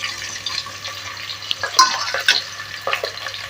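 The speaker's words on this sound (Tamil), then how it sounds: "இப்போ இந்த கட் பண்ணி வச்சிருக்கிற இந்த ஆனியனை போட்டுடலாம்" Chopped onions sizzling in hot oil for a pressure-cooker chicken biryani, with a steady soft frying hiss and a few brief stirring scrapes and crackles close by.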